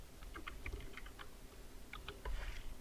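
Text is typed on a computer keyboard in quiet bursts of soft key clicks, a quick cluster early on, a pause, then another short flurry, faint and close with no talking.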